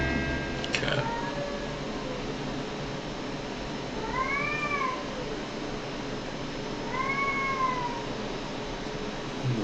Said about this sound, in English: A very sad cat.